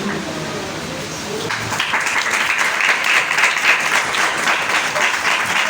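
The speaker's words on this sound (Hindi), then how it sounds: "जोरदार तालियां बजाइए" An audience at a Hindi-language Christian worship gathering breaks into steady, loud applause that swells and holds as a dense wash of clapping with no speech.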